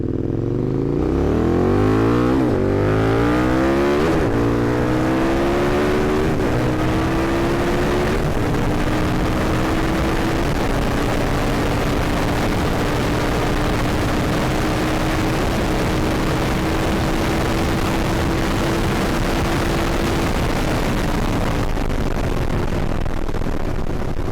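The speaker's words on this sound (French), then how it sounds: "On va tester la vitesse de pointe du Super Duke contre la vitesse de pointe du 690." A KTM 1290 Super Duke R motorcycle engine screams up through several gears during a top-speed run, pitch climbing with each shift, then holds a loud, steady high whine at speed.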